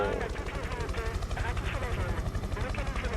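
A helicopter in the video game Prototype 2, following a scientist on a rooftop: a steady, fast rotor thump that dominates the mix, loud and continuous, with a voice speaking over it.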